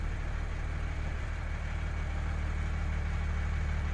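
Delivery truck in the Nucleares game idling steadily, a low rumbling engine drone with a constant hum and no variation across the few seconds.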